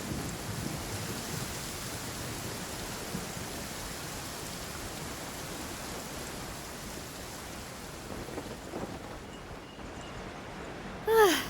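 Steady rain hisses throughout a stormy scene in the video game Genshin Impact, with faint low rumbles of thunder underneath and a brief bright sound at the very end.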